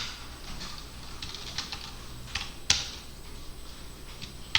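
Computer keyboard keys pressed while exiting the vim editor, a few soft, sparse clicks and one sharper tap over a steady faint hum, no speech.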